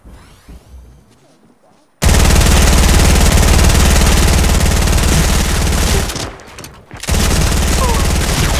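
Loud shotgun blasts in a video game, a dense barrage of gunfire and booms that cuts in abruptly after a quiet start, briefly drops out, then resumes at full force.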